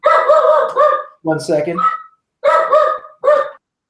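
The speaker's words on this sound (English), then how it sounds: "We had an errant dog right there." A dog barks in a few short, loud bursts from close by, with a person speaking briefly between the barks during a live online show.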